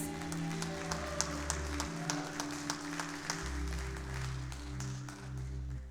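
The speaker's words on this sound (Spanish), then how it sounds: "Give God a round of applause." A church congregation gives a round of applause, soft scattered claps over sustained organ or keyboard chords playing underneath.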